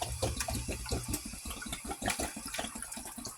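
Liquid for a tomato relish being poured into a measuring cup, a steady close splashing stream running for a few seconds with no talking.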